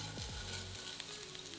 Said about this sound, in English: So add that rice in and stir until the oil has coated the rice.